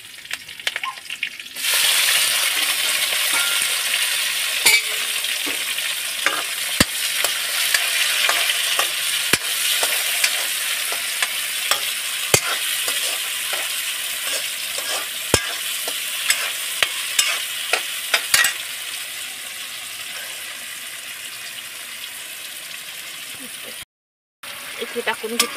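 Tomatoes and green chili fry in a pan with a bright, continuous sizzle while a utensil clacks and scrapes at irregular intervals; the frying grows quieter toward the end, and there is a brief silent gap.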